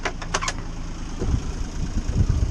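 A boat engine on the ICW at Sebastian, Florida, running after a Racor fuel filter change, rumbles low and close, preceded by a few brief sharp clicks at the start.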